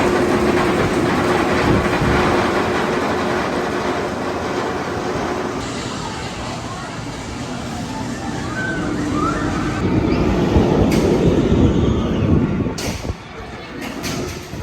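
B&M Gatekeeper roller coaster train at Cedar Point rumbling along the track, a sustained roaring, rattling rush heard up close with wind noise, swelling louder toward the end, as people talk over it.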